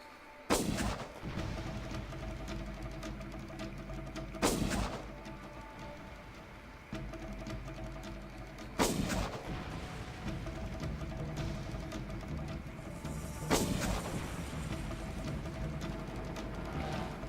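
A rocket launcher in the Far Cry game fires four heavy booming blasts, spaced several seconds apart, each followed by a rumbling tail over a steady low background drone, with no talk.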